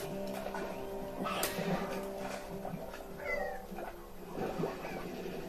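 Cats meow repeatedly at mid distance in the video game Slime Rancher, fairly soft over a steady ambient game backdrop, with little talking.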